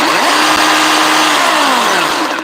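Ryobi 18-volt battery chainsaw with a 4 amp-hour Ryobi Edge battery running steadily at high speed, a loud, close, continuous motor whine with slight pitch wavering throughout.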